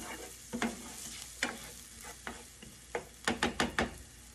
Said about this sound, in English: I'm really just looking to caramelize these onions just a little bit